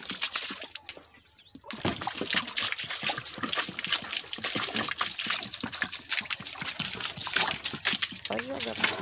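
Water is thrown and splashed across a floor during household cleaning, with sloshing, trickling and splattering that come in uneven bursts close by. People talk between the splashes.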